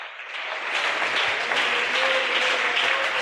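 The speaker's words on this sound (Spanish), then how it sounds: "¿Por qué no le das ese aplauso al Salvador esta noche?" Sustained applause from a church congregation during an evening service, a dense, steady wash of many hands clapping with no one speaking over it.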